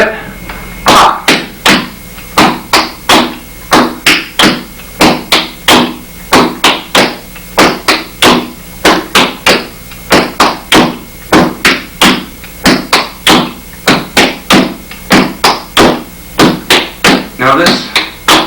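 Flatfoot clogging steps tapping on a floor, a long run of sharp, close, loud percussive hits in a steady triple-beat rhythm, with brief clusters of quicker taps between.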